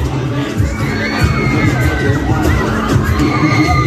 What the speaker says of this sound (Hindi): देखो कैसे चीखे मार रहे हैं।